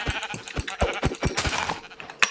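Sheep in Minecraft bleat in a quick series of short, clipped calls over a faint background, with no one speaking.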